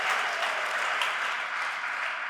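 A church congregation clapping for Jesus during a Pentecost service, a continuous wash of many hands at steady volume, slightly distant and sustained without pause.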